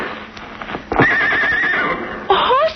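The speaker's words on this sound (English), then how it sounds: "Horses. You got horses hidden back in the woods." Horses neigh and whinny in an old-time radio adventure drama set by the woods, a loud, close whinny with a long wavering cry, then a second sharp neigh near the end over faint background clatter.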